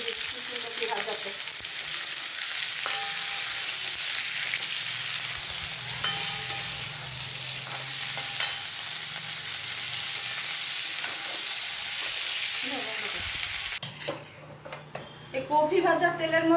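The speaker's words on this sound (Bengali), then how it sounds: "একটু হলুদের গুঁড়ো দিয়ে দিচ্ছি ফুলকপি ভাজাতে।" Cauliflower frying in oil with turmeric powder gives a steady, close sizzle throughout, with occasional stirring clinks; the sizzle thins out near the end as a voice briefly speaks.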